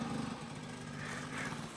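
A supermoto motorcycle engine drones steadily and loudly while climbing a steep slope off-road, its pitch holding fairly even with a slight rise near the end.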